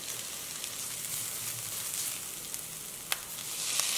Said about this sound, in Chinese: 再放入配菜，炒至半生。